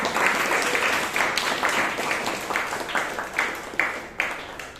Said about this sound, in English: Let us all give her a huge round of applause.